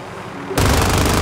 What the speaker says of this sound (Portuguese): Eles estão atirando aqui.